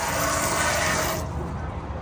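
A steady broadband hiss of water spraying while cleaning BMW E30 M3 fenders, close and continuous, easing slightly partway through.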